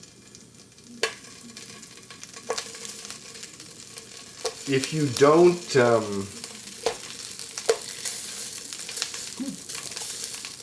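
Tofu sizzles in a hot dry pan amid clatter and scraping of a utensil, a few sharp knocks, with a brief voice speaking near the end.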